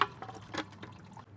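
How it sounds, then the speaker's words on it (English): Automatic transmission fluid drips from the fill plug of a Subaru BRZ / Scion FR-S / Toyota GT86, a few soft wet drips and a light trickle, close and quiet over faint background noise. "Pull our dispensing wand out of the fill plug, and we'll let that drip until it is a small trickle."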